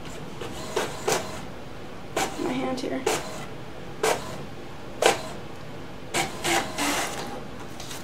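An HP Officejet Pro 8620 inkjet printer prints pages indoors, a low steady mechanical whir broken by repeated short clacks and shuffling bursts as paper feeds, with a person speaking briefly nearby.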